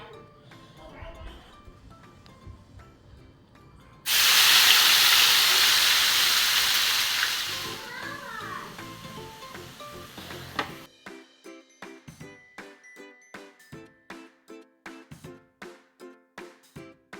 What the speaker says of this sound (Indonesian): tumis dia bumbu dulu ya